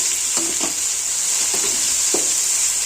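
Masala for a fish curry sizzles steadily in a hot pan, with a spoon or spatula scraping and stirring it in four or five short strokes, close and fairly loud, and no one talking.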